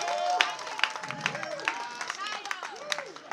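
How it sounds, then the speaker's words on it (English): A crowd claps for Ashiru, a Nollywood actress, with scattered cheering; uneven clapping sits under a voice singing or chanting throughout, moderately loud. "If you love Ashiru, can we give her a round of applause?"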